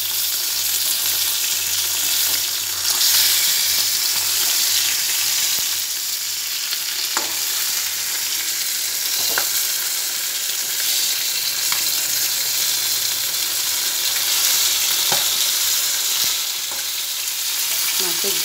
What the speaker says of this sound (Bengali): আমরা সিলভার কাপ মাছ খাবো, আর ওর জন্যে এই যে মাছগুলো ভালো করে ভেজে নিয়ে মাছের ঝাল হবে